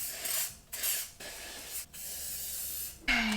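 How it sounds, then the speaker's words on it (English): Cooking oil sprayed from a can onto a bowl mould in short bursts, three close hissing sprays separated by brief pauses, followed by a faint clunk at the end. "So I've got some oil. I'm gonna spray it."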